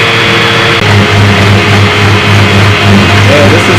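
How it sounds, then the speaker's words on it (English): An electric motor runs a generator, producing a loud, steady, humming whine that holds an even pitch throughout the short stretch. "Now I'm going to switch on the motor."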